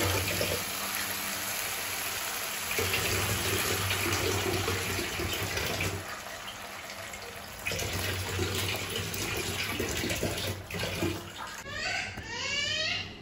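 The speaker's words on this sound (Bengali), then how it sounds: "এবার আমি জল দিয়ে, জলটা ফুটলে মাছগুলো দিয়ে দেবো" Water poured into spiced masala for bhetki fish curry, a continuous broad rushing pour that runs steadily for several seconds with brief dips, close and fairly loud, without talk.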